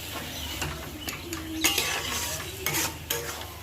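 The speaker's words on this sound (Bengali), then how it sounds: "কচুর শাকটাকে ভালো করে নাড়তে হবে" Taro leaves (kochu shak) are stirred in a hot pan, with repeated scraping strokes of a spatula against the metal over a low sizzle; close and moderately loud, with no voices.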